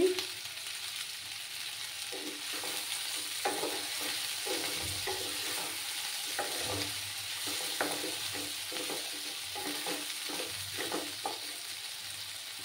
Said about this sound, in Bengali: আমি একটা পেঁয়াজ দিয়ে দিচ্ছি